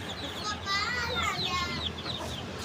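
Hens and a rooster, a Mianwali hen and a Bakhar rooster, call with clucking, rising crow-like notes close by, over a busy background with faint voices.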